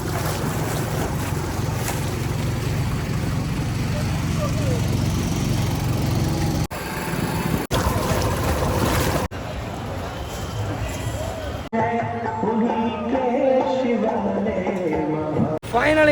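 A motor boat, which was leaking, hums steadily on the river at Omkareshwar, with constant engine drone and wind rush throughout; people talk loudly over the motor in the later part.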